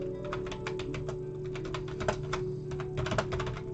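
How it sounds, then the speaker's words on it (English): Rapid, irregular clicking of fingers typing on a computer keyboard, close and fairly loud over a steady low background hum, with no voices. "I'm bad at typing and talking at the same time"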